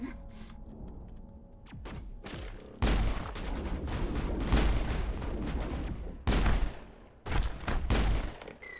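Enemy gunfire in the Mass Effect video game: bursts of shots and heavy thuds crack out in clusters, with loud volleys around the middle and sharp separate blasts near the end.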